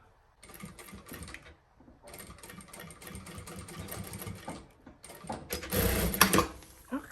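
A sewing machine stitches in fast, rattling runs, starting and stopping a few times with short pauses, and ends in a louder, harder burst.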